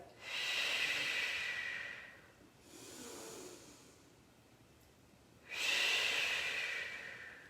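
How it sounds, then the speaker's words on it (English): Slow, deep breathing during a Pilates session: two long, airy exhales framing a softer breath in between, close and quiet with no talking. "Take a few nice, deep, purposeful breaths here."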